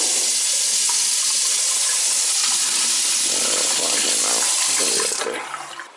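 Water gushes loudly and steadily from a tub spout and faucets during a gas water heater replacement, a continuous close rushing flow that tapers off at the end.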